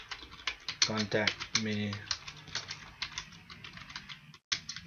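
Soft clicking keystrokes on a computer keyboard come in quick irregular bursts, close and fairly quiet, while a person talks intermittently over the typing.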